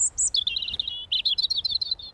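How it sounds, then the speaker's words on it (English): Garden birdsong on a morning in a planted wellbeing garden: a run of bright, high chirps and twittering phrases, fairly close and clear over a quiet background, with no talking. "allow you to enjoy the lovely sounds of birdsong in the morning"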